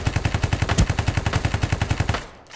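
Rapid SMG fire in the shooter game Ring of Elysium: a loud, close, evenly spaced burst of about twenty shots that cuts off abruptly near the end.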